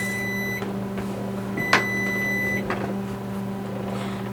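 An oven sounds two separate electronic beeps to signal it has preheated, each about a second long, against a constant low appliance hum.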